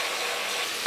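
Chicken biriyani masala made with flattened rice sizzles and fries in a pan while being stirred, a steady close hiss throughout with a brief scrape at the end.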